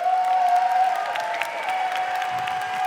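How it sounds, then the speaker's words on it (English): Crowd applause for the Pokémon GO Grand Finals finalists at a live esports event, a steady sustained clapping that holds evenly for a few seconds, with a faint tonal hum beneath it. "give it up one more time for our finalists"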